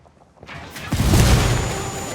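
A frag grenade goes off in a Ghost Recon Wildlands cutscene: a short quiet lead-in, then a deep, heavy boom that swells and rumbles on, loud and close.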